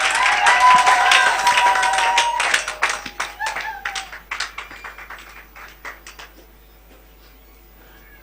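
A church congregation claps and cheers in praise at a worship service, loud sustained applause that thins into scattered individual claps and fades out, with no clear talk.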